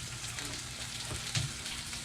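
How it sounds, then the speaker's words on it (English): Homemade cured and smoked pork belly bacon sizzles in a frying pan with a steady, soft crackling hiss and one brief louder pop. "Now we got the bacon sizzling."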